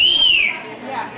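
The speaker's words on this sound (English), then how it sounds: "I did learn how to whistle a long time ago" A single clear whistled tone glides slightly for about half a second, then fades out, leaving faint room noise behind it at an awards ceremony.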